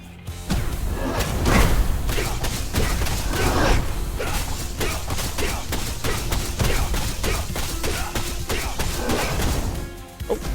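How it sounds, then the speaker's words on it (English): Video game explosions boom and crack in rapid, dense bursts like heavy gunfire, loud and continuous for the whole stretch before tapering off at the very end. "That's a lot of explosions."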